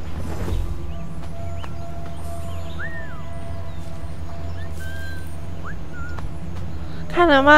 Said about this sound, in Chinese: 这一只也吹哨把它引过来。